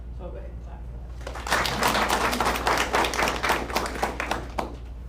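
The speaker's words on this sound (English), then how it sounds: "So I'll go ahead and clap for" An audience at a school board meeting applauds to thank Front Street Garage, with a burst of many hands clapping that rises sharply, holds for about three seconds, then thins out.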